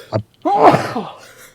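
A single loud sneeze up close: a short sharp intake, then a forceful burst that trails off into a breathy exhale.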